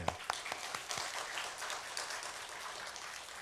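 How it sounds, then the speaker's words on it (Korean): A church congregation claps together, starting with a few sharp individual claps that quickly merge into a fairly soft, continuous patter of applause. "우리 주님께 영광의 박수를 한번 보시죠"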